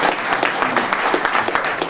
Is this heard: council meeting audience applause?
yes